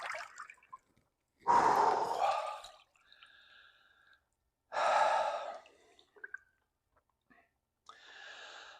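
Two sharp, loud gasps a few seconds apart from a person entering a cold plunge, each followed by shaky breathing, with light water drips between them.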